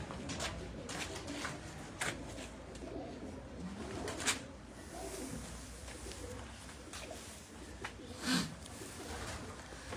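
Soft pigeon coos murmur over a busy, noisy background on a rooftop in Kotli Bajar, with a couple of louder calls standing out near the middle and toward the end.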